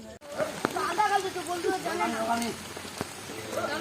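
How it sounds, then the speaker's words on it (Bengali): Rain falls outdoors in a steady wash during a wet-weather marbles game, with voices and children's chatter close by over the downpour. "বৃষ্টি পড়ছে বাইরে"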